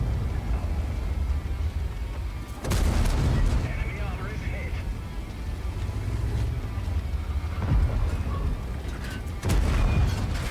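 Tank cannon shots in a tank battle video game: a few loud, sharp booms with rumbling tails, spaced several seconds apart over steady engine-like rumble and battle noise.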